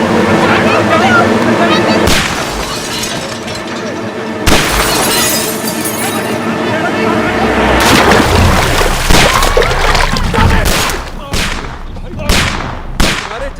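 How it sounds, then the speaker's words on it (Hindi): Sharp gunshot cracks break through a dense, loud wash of shattering and crashing noise, with several quick bangs clustered near the end. "तुम्हारे चक्कर में किंग पे गोलियां चलवा दी"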